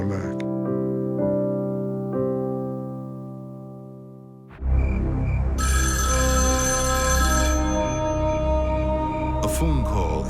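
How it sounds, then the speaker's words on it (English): A telephone rings in the dead of night, a steady electronic ringing tone that repeats before a louder, denser stretch of sound and voices takes over partway through. "A phone call in the dead of night rarely brings good news."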